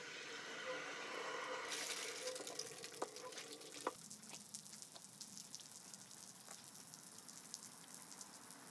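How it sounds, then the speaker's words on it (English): Water spraying from a small ring sprinkler fitted on a fire hydrant cap, starting abruptly as the hydrant opens into a steady hissing, splashing rush, with a few sharp knocks and occasional voice in the background. "this little ring sprinkler's on the opposite cap right here. So let's open it up and see how it flows."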